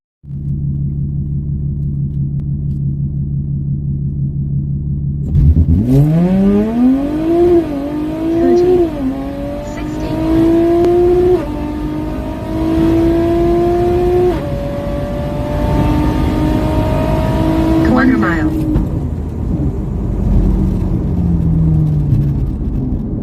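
A 2012-era C7 Audi A6 3.0T with an enlarged intake tube and an 85mm throttle body rumbles at idle, then launches into a loud quarter-mile run. The engine pitch climbs hard through several gear changes, dips briefly, then keeps pulling.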